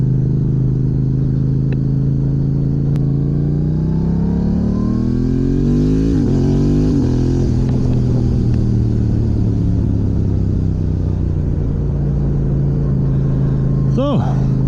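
Yamaha R7 sport bike ridden at low RPM with a GYTR quickshifter, a loud steady engine drone rising and dipping through gear changes, with wind rumble and a voice talking over it.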